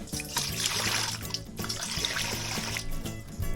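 Water pours steadily into a bowl, a continuous trickling splash lasting throughout, close and fairly loud.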